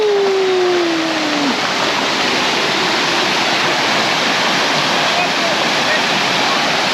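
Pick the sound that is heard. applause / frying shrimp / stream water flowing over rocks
stream water flowing over rocks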